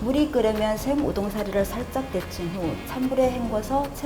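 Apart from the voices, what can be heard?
No everyday noise stands out behind the speech.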